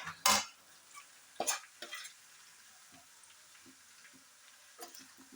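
A spoon scrapes and stirs Kashmiri chili powder into Kerala-style beef roast in a pan, with a few sharp clinks against the metal and softer scraping strokes, close by and fairly quiet, with no talking.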